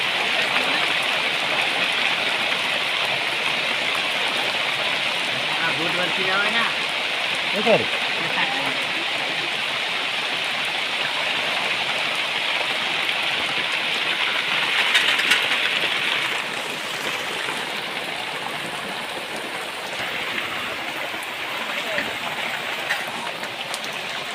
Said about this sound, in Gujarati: ફૂલ વરસાદ વરસી રહ્યો